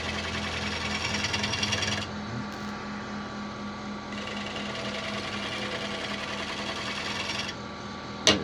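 A gouge cuts a 14-inch Irish yew display bowl spinning on a wood lathe, producing a close, rapid rhythmic chatter over a low motor hum, briefly easing off midway before resuming.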